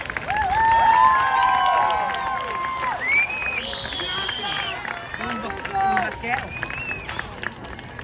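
A high school crowd applauds and cheers for the 2022 homecoming court. Clapping, shouts and whoops rise and fall over eight seconds, with voices and crowd babble mixed throughout.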